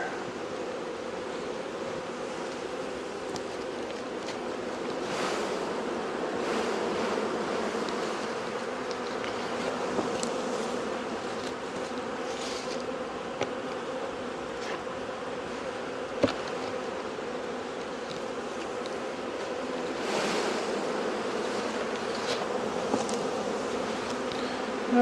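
A dense, steady buzzing of many bees swarming close by, continuous throughout with no talking.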